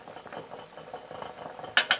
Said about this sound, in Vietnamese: Bây giờ chúng ta sẽ đậy cái nắp này lại để cho nếp nó mau mềm nhé.